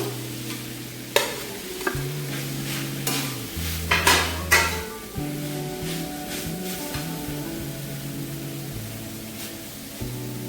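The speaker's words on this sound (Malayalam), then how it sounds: "ഒരു 10 സെക്കൻഡ് അതും വഴറ്റിയതിന് ശേഷം നമ്മളുടെ ചിക്കൻ പീസസ് ഇട്ട് കൊടുക്കാം" Chicken pieces go into a hot pan for fried rice and are stir-fried with loud sizzling, while a utensil scrapes and clinks against the pan in irregular strokes close by.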